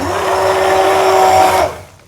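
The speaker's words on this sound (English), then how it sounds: "So once again, we're going to clean off our immersion" An immersion blender whirs loudly in a kitchen as it is cleaned, a steady motor drone with a pitched hum that runs for about a second and a half, then cuts off abruptly and dies away.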